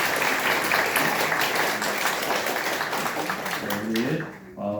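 Church congregation applauding in thanks after a worship service announcement, a dense, steady wash of clapping that stays loud throughout and then cuts off abruptly near the end, with a voice starting to speak.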